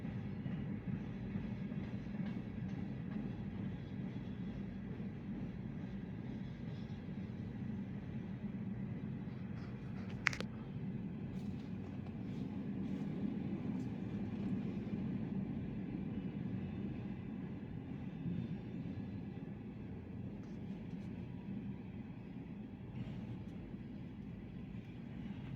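A Conrail locomotive-hauled train rolls past on Norfolk Southern track, a steady broadband rumble with rail noise held throughout, one brief sharp clank midway.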